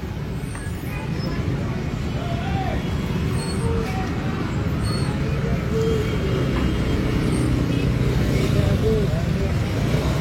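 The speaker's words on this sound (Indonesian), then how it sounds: "kondisi di Jalan Merdeka Pematang Siantar sedikit macet, namun arus lalu lintas masih dapat dikendalikan" Busy street traffic on Jalan Merdeka in Pematang Siantar: a steady, loud roar of cars, buses and motorbikes passing close by, with occasional horn-like tones and faint voices mixed into the constant road noise.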